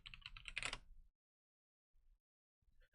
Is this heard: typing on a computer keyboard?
yes